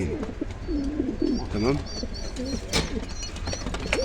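Domestic pigeons at a bird sale cooing in soft, throaty rolling calls, close and repeated, with someone speaking briefly over them.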